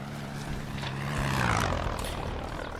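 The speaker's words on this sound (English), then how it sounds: "Well, Dan, it really is a plane this time" A propeller plane drones overhead in the Shotgun Farmers video game, a steady engine hum that swells and fades over a few seconds.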